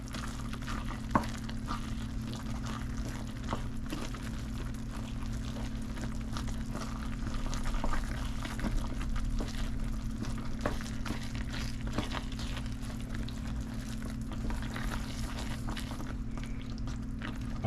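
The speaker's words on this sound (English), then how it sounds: "We put our peanuts in. We stir them because they're going to clump up a little." Peanuts stirred into hot caramel for peanut brittle, a steady close sizzle and bubbling with soft scraping stirs under a constant low hum, no talking.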